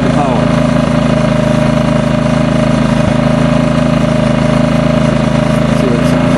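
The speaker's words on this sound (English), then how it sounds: "And then generator is back to almost idling now because it doesn't need the power." A Generac iX2000 2000-watt gas inverter generator idles steadily at close range, a loud, constant droning hum with a low vibrating rumble and no changes in pitch.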